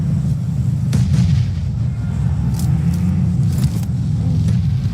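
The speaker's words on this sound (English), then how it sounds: "Nade after nade to keep the pressure on downhill" Grenade explosions in PUBG Mobile, heard as loud, heavy rumbling blasts layered over a constant low roar of game noise, with sharp cracks breaking through at intervals.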